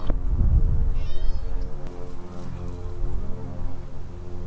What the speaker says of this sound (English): I just heard a cat meowing.